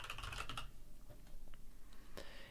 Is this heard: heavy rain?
no